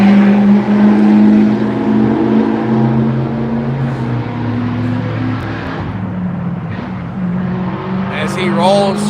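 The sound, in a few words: car exhaust as it rolls through town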